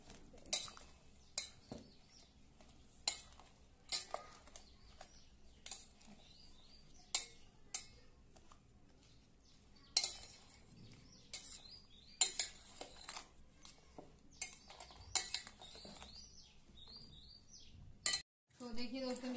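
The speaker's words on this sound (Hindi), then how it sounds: "और इसे अच्छी तरह से मिक्स करेंगे।" A spoon scrapes and clinks in a bowl as raw mango pickle is stirred and mixed, irregular sharp taps and scrapes over a quiet background with faint bird chirps.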